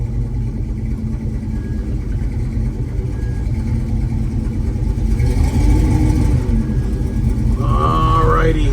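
A 1967 Chevrolet Camaro with a 396 engine runs steadily up close, a loud continuous low rumble with slight swells, and a thin whine rising near the end.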